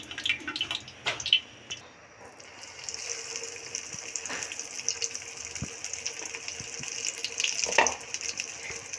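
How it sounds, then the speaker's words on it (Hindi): Bread-crumb-coated cabbage kebabs shallow frying in hot oil give a steady, moderate sizzle and crackle, with a few sharper spatters and pops rising above it. "ब्रेड क्रम्स लगा के इसे अच्छी तरह कोट करके फिर हम इसे ऑयल में डालते हैं"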